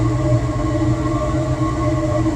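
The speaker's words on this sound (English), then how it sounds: "Got the oil burner cranking out some heat." An oil burner heater runs in a garage while getting ready for a big snowstorm, producing a loud, steady, close droning roar with a persistent tonal whine layered over a low rumble and no breaks.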